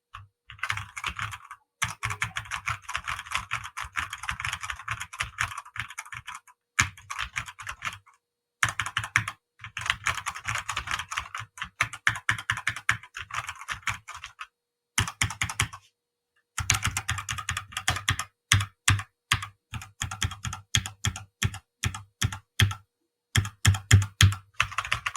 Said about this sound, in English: the keycaps, I believe they're red or brown mechanical switches